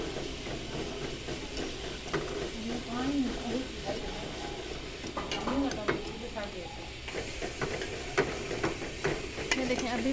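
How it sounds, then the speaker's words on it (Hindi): Sugar syrup for gulab jamun is slowly stirred in a pot on the stove, giving a soft, continuous scraping and bubbling hiss with occasional light knocks of the spoon throughout. "इसको आहिस्ता आहिस्ता हिलाते रहें और इसको जो है वो शीरा बनाते रहें"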